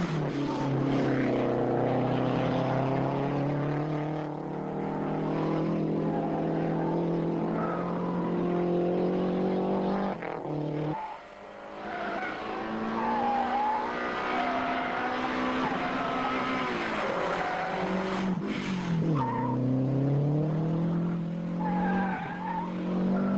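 Two Lancia Delta four-wheel-drive cars, one rally-spec and one road version, run a slalom, their engines rising and falling through changing revs with squealing tyres over about twenty seconds, with a brief lull partway through.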